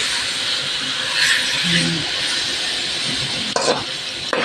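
Marinated pork for a Filipino pork steak sizzles steadily in a pan while being stirred, a close continuous hiss with scraping stirs and a couple of sharp utensil knocks near the end.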